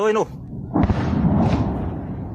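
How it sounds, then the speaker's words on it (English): A deep airstrike explosion booms in war footage, a heavy low rumble that rolls on and lingers after a brief voice at the start. "there was the boom"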